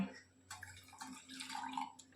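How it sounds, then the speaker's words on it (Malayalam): Masala tea sweetened with sugar is poured from a height into another cup, a short gurgling, splashing trickle heard close and fairly quiet, with some faint room noise around it. "നമുക്ക് ഇതിലേക്ക് കുറച്ച് ഒഴിക്കാം."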